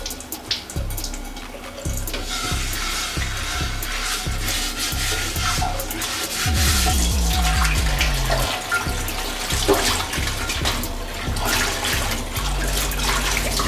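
A cast iron skillet being washed with water and a little soap outdoors at a campsite: running water splashes and trickles while the pan is scrubbed and rubbed, with knocks of metal throughout.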